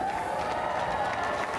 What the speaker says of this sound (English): And that earned a rousing applause.